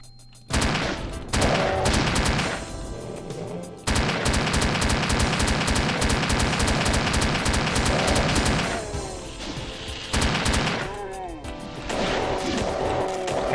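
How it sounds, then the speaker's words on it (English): Machine gun fire in the Doom video game: long, loud bursts of rapid automatic shots that stop and restart, with brief pauses between bursts and the crash of impacts. "Machine gun."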